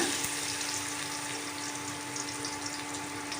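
Chopped medium-size onion frying in hot oil in a pan for masala semiya gives off a steady, even sizzle, close and moderately loud, with no voices over it.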